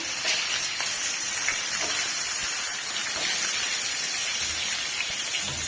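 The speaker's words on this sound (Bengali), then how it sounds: "আমি কিন্তু ডিম ভাইজে নিচ্ছি" Eggs fry in hot oil in a pan in a village kitchen, giving a loud, steady, close sizzle like rain with a constant hiss and no voices.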